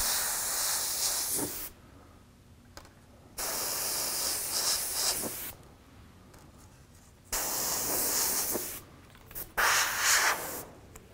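An airbrush sprays candy2o paint while painting realistic fire graphics with a stencil. It makes close, loud hissing bursts of a few seconds each, separated by quiet pauses.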